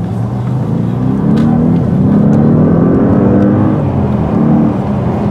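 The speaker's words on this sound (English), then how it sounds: "just that initial acceleration is unbelievable and it sounds great" A 520 hp Audi S8 accelerates with its engine revving, a loud deep rising drone that climbs steadily in pitch, heard from inside the car.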